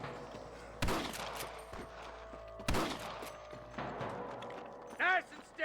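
Sniper rifle shots ring out in a Western shootout in Red Dead Redemption, with two loud sharp cracks a couple of seconds apart among quieter battle noise and a brief ringing metallic sound near the end.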